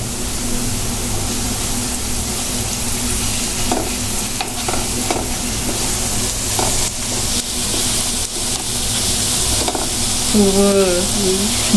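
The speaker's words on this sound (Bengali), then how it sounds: "এই যে আমাদের পেঁয়াজগুলো ভাজা হয়ে গিয়েছে" Onions fry with turmeric in a pan, sizzling steadily while a utensil stirs and scrapes through them in repeated strokes, with a voice briefly heard near the end.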